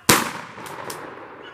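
A single gunshot fired at a rabbit during a hunt with dogs, one sharp loud crack up close followed by a short fading echo in open country.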